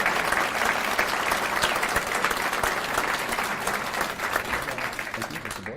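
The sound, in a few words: audience applause for award recipients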